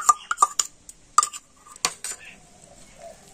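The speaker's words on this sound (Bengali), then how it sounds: "সুজির সাথে তো সবকিছু ভালো করে আমি প্রথমে মিশিয়ে নিয়েছি" A utensil clinks and scrapes sharply against a bowl, several quick metallic taps in a bursty rhythm, while soaked semolina is mixed with other ingredients for fuchka dough, close and clear, then fading into quiet.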